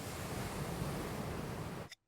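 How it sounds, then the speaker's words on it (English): Soft, continuous rushing hiss like distant surf, heard as the sea in a seashell held to the ear in the Peppa Pig cartoon, cutting off abruptly at the end. "Wow. I can hear the sea."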